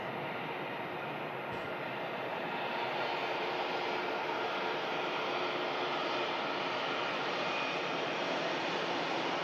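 A British Airways Airbus A319 jet departs Manchester Airport, its engines making a loud, steady broadband roar that builds slightly and holds for the whole stretch, close and without talk.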